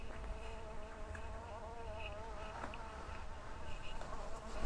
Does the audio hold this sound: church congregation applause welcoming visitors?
no